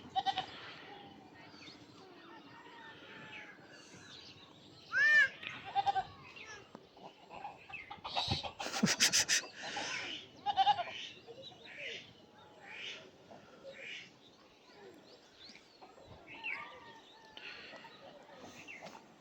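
Goats bleat in several short, scattered calls at a village picnic, some near and some farther off, alongside geese or ducks and occasional voices, with a quiet background between calls.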